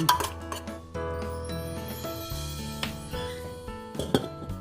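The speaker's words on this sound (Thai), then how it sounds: "ก็จะใส่น้ำร้อนลงไป 250 มิลลิลิตร คนให้ชาจม" Lavender tea is stirred into hot water in a cup, giving bright, ringing clinks of a spoon against the vessel: several light taps, then sustained tinkling and a couple of sharper knocks near the end, close and alone.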